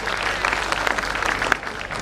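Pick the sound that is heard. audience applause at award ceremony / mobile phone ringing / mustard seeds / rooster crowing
audience applause at award ceremony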